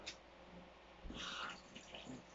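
Two cats fighting indoors in Okinawa, one attacking the other: a brief, faint burst of hissing and yowling over a quiet background, with no talking.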